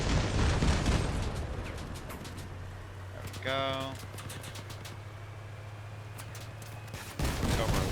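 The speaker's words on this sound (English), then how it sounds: "Now I need to shoot the 2 rear cannons." Rapid bursts of cannon fire in the vehicle combat game Crossout, aimed at an enemy vehicle's rear cannons, clustered in quick volleys over a steady engine drone, with a brief voice partway through.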